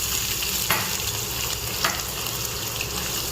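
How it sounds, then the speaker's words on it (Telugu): Onions hit hot oil already holding tempering seeds in a pan for an ivy gourd (dondakaya) fry, giving a loud, steady sizzle with a couple of brief scraping stirs. "ఫస్ట్ మనం ఆయిల్లోకి కొన్ని ఆనియన్స్ వేసుకోవాలి"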